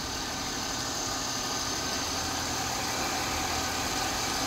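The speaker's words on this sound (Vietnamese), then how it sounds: "máy nổ im điếc luôn" A 2005 car's engine idles quietly and evenly, a smooth steady hum with faint mechanical vibration, close by and unbroken.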